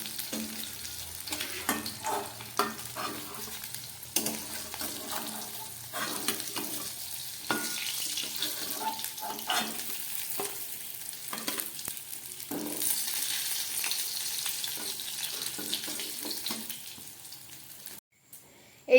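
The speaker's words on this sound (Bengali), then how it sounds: "মাছগুলো একদম ভাজা হয়ে গেছে" Fish pieces fry in mustard oil in a pan, a steady sizzle that runs throughout, overlaid with repeated irregular clatters and scrapes as the pieces are turned and lifted out.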